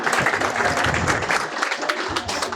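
An audience at a ceremony honouring a painter claps together in a dense, continuous burst of applause that lasts throughout, with no talking over it.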